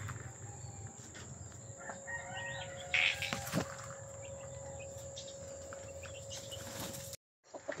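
Chickens in a backyard coop after heavy overnight rain, with a rooster crowing and soft clucks amid a steady hum of insects and ambient outdoor noise.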